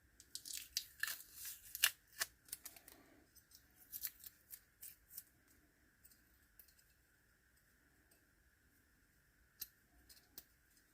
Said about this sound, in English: Of course, I can't get the tape off.